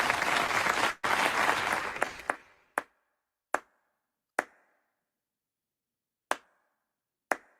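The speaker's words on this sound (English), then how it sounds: "Everybody, round of applause for" Applause for a guest on a talk show, a burst of dense clapping for about two seconds that breaks off, then a few lone, sharp claps spaced out across the quiet remainder.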